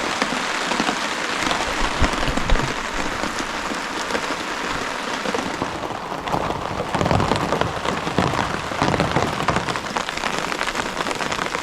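Rain pours onto a tarp at a canoe-camping site in the northern Ontario wilderness, a dense, continuous patter that swells louder partway through, with no voices.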